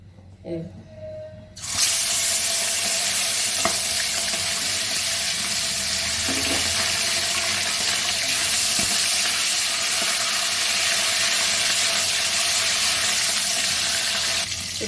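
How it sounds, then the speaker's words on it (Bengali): Hilsa fish fat frying in hot mustard oil in a kadai, a loud, steady sizzle that starts abruptly after a brief quiet moment and keeps going close up with faint clinks. "কড়াতে সর্ষের তেল চাপিয়ে দিয়েছিলাম। তো এখন যেটা করবো, সেটা তেলটা আমি এখানে একটু ইলিশ মাছের তেল রেখেছি, সেটা ভেজে তুলে রেখে দেবো।"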